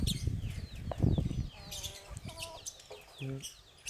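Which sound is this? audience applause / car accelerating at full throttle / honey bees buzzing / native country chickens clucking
native country chickens clucking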